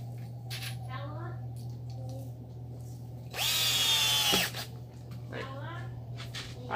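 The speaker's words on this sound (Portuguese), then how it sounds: "Parafusar dois parafusos." A power drill drives screws into an old tyre while a trampoline is being built, one loud whirring burst of about a second standing out over a steady low hum and nearby talk.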